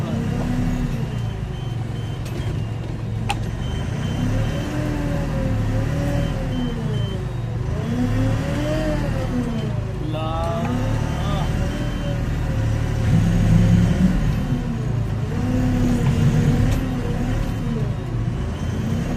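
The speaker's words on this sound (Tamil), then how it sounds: "ஆஹா, லாரி வந்துச்சு." A lorry on a narrow road leading to a lake in Kodaikanal, its engine droning loud and near with rising and falling revs as it passes, while people talk over the rumble.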